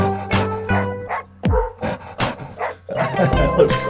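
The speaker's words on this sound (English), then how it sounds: "Man, the dog sounds." Sampled dog barks and yips set into a hip-hop music track, several sharp barks and a stretched whimpering note riding over the beat, with someone talking over part of it.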